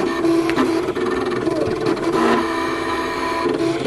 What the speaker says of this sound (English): I'm going to hit cut. I'm going to hit OK. It's going to suck it in.